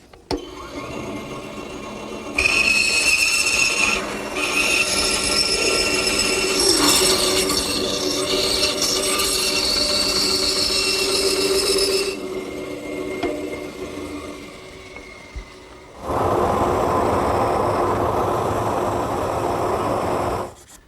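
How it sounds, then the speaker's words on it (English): A bandsaw cuts out the traced outline of a wooden tenon in a woodworking shop, its loud motor whine and blade buzz running steadily with shifting tone, dropping away briefly, then resuming for a second cut. "Now over to the bandsaw, where I can cut it out."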